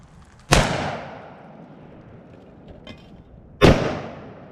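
Two loud, sharp Desert Eagle .50 AE gunshots fired at a cement block outdoors, each a sudden close blast with a decaying echo, about three seconds apart.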